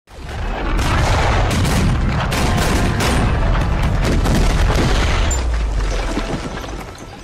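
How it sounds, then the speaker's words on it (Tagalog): A German tank shelling a building in a Stalingrad war film scene: loud, rapid successive booms and cracking bursts pile into a dense, sustained barrage of blasts and debris that slowly tails off. "dumating ang tangke ng mga Aliman at pinaputokan ang gusali ng sunod-sunod"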